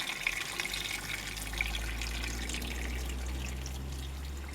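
Water pours steadily into a cooking pot for soup, a continuous splashing rush with a low resonant hum beneath it, close by and without speech.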